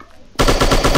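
A loud burst of rapid automatic gunfire erupts abruptly after a short quiet moment in the commando shooting game Striker chapter 2, continuing steadily to the end.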